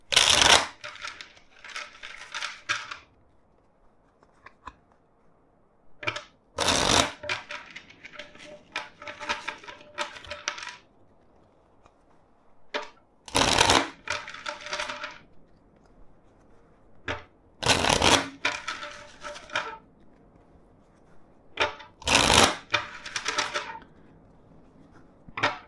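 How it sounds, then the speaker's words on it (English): A tarot deck is shuffled by hand in several bursts of crisp riffling card noise, separated by pauses, close and fairly loud with no talk. "let's shuffle the deck four times for you."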